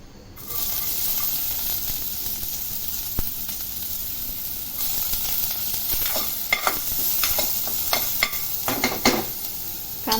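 Onion frying in a spoonful of ghee in a kadhai, with a steady close sizzle throughout and scattered stirring scrapes and clicks toward the end.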